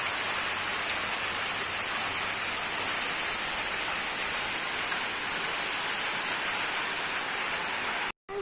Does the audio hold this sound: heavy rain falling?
yes